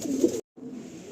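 Tournament-quality pigeons coo in a loft, a close, low throaty burst that breaks off into a brief silence before softer cooing resumes.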